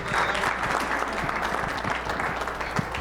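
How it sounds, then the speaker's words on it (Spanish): Conference audience breaking into strong applause, a dense, loud wash of many hands clapping that continues evenly from start to finish, with no talking over it. "Un fuerte aplauso, si no, no aparece"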